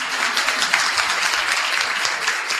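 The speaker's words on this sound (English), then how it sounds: "And a big round of applause to our 6 local theologians from the book" A conference audience at a Catholic women's church reform gathering applauds, with loud, continuous massed clapping filling the room steadily and no speech over it.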